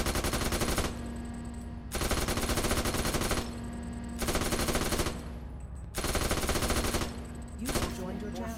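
Sustained bursts of automatic machine gun fire in a WW2 Poland campaign video game, loud and close, coming in about four long volleys separated by short pauses, with faint voices talking between bursts.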